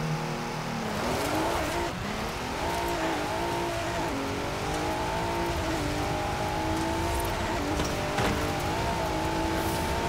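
A Ford Ranger Raptor makes a boosted launch in Forza Horizon 4, its engine roaring close and loud, climbing in pitch as it accelerates and shifting gears through a sustained, continuous pull.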